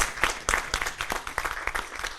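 A brief round of audience applause for an insurance regulatory authority CEO at a conference hall event, individual claps audible within a fairly loud, uneven patter that lasts a couple of seconds.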